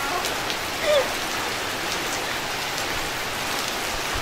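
Steady rain falls outdoors as an even, continuous hiss, with no voices over it.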